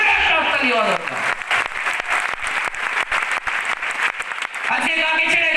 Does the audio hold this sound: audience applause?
yes